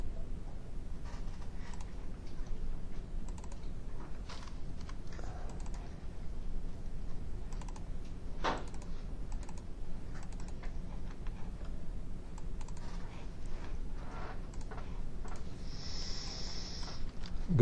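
Quiet clicks of typing on a computer keyboard come in scattered bursts, faint and close, over a low steady room hum.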